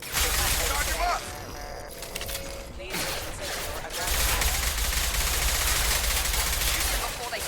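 Rapid bursts of automatic gunfire from a sci-fi shooter game firefight, loud and dense, with shielded combatants trading fire; voices and battle noise mix in throughout, with a brief lull in the middle before the shooting swells again.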